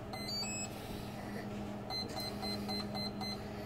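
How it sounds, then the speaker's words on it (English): A Skywalker 60 amp brushless ESC on a 24 volt supply beeps on power-up: clusters of short, sharp, high electronic beeps come near and clear over a steady low hum. "you'll hear the beeping, and the beeping is coming from"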